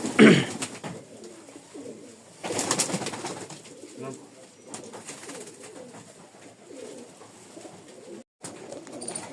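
Giribaj and hand-flying pigeons coo in low, soft murmurs at a loft in Rajshahi, a steady close chorus with a louder flutter-like burst midway and some background talk.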